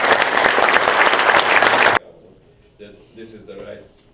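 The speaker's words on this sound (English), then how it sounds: "So if we have a round of applause for" A conference audience gives loud, dense applause for two panelists. The applause cuts off abruptly after about two seconds, and a person then begins speaking in a quieter room.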